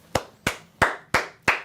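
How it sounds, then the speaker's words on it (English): One person claps hands five times at an even, unhurried pace, each sharp clap close and loud against a quiet room, with no talking. "We'll clap it up for them for the one time."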